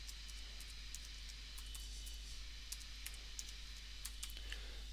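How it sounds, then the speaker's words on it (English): Rapid, light key clicks as passwords are typed on a computer keyboard, scattered irregular taps over a steady low hum, no one speaking. "So let's just type those in."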